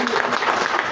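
Brief burst of audience applause at a political gathering honouring Atal ji, dense steady clapping throughout with a speaker's voice mixed in.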